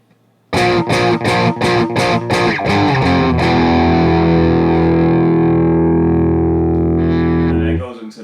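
A bridge riff on heavily distorted electric guitar: a rapid burst of chugging palm-muted hits, then a long ringing chord that decays before cutting out.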